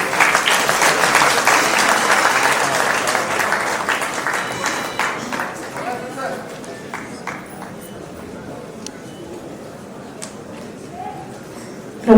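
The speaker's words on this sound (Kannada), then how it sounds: "ಬನ್ನಿ ಚಪ್ಪಾಳೆ." An audience at a media academy award ceremony claps after a book launch: dense, loud applause fills the opening seconds, then thins to scattered claps that fade toward the end.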